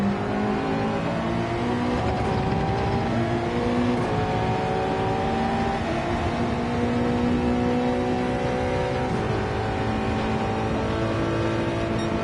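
A Honda NSX race car in Gran Turismo screams along at Suzuka with its engine held at high, steady revs, and smooth gear shifts rise in pitch through a loud, continuous drone without any voices.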